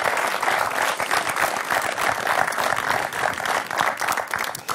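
Dense, steady applause from a seated conference audience, many hands clapping together at a loud, even level throughout with no talking.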